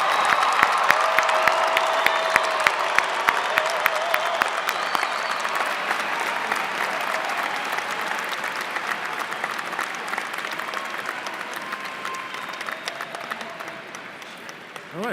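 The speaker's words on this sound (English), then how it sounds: "Would you all please join me in a round of applause for these new graduates of Westminster" Westminster College 2019 commencement audience applauding new graduates: a large crowd's sustained clapping with scattered cheers and whoops, loud at first and gradually tapering over about fifteen seconds.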